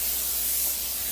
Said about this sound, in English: We're going to spray this.